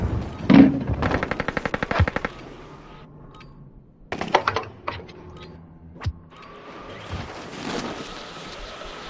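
Video game gunfire: a rapid machine-gun burst opens loud and close, then single shots and short bursts follow after a pause, amid mechanical clatter and game effects.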